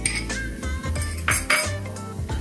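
Spinach puree is stirred into cooking vegetables in a pan, with repeated clinks and scrapes of a metal spoon against the pan in an uneven stirring rhythm, heard up close and without talking.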